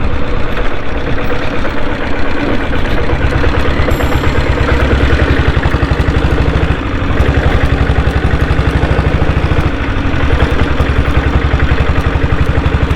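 A restored diesel Bullet motorcycle engine idles loudly and steadily up close, a continuous thumping chug with an even rhythm throughout and no voices.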